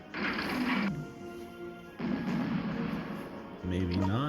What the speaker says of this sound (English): now we take out Guderian with our artillery